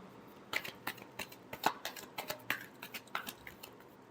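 Tarot cards being shuffled by hand, a quick run of soft papery riffles and slaps in an uneven rhythm, close and fairly quiet with no talking.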